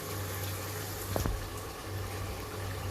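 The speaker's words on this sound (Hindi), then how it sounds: "मुसलसल मैं चम्मच इसमें हिलाती जा रही हूँ" Haleem mixture of grain and water cooking over high heat while a spoon stirs it continuously, giving a steady watery bubbling and sloshing wash with one brief louder clink or splash near the middle.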